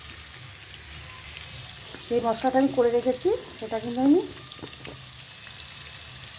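Potatoes frying in a pan give a steady, low sizzling hiss throughout, with a person speaking over it in the middle.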